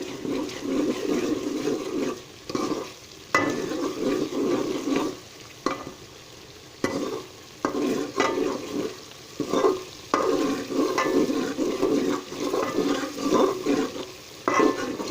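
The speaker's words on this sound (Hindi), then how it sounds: "अब इसको अच्छी तरह भुनाई करके थोड़ा पानी लगाएंगे ताकि हमारा तड़का जो है वो नीचे ना लगे।" Cumin, red chili, turmeric and garam masala frying in a tadka for chana dal, heard as bursts of sizzling hiss broken by short pauses and stirring, fairly close and without talk.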